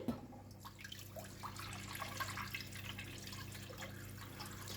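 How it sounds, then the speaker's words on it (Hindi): Water pours and trickles steadily into a clay cooking pot, with small splashes and drips over a low constant hum. "अब इसमें हम डाल देंगे पानी।"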